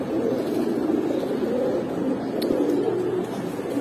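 Giribaz pigeons, a second pair of the gola kosha line, cooing in low, continuous murmurs that blend together at close range, steady throughout with no speech.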